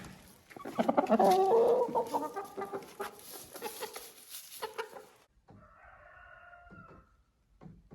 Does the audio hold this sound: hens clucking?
yes